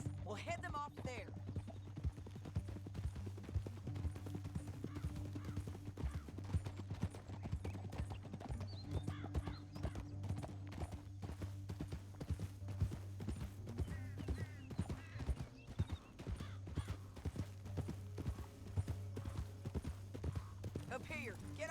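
Horse hooves clip-clopping steadily in the video game Red Dead Redemption 2, a continuous rhythmic patter under game music and characters talking.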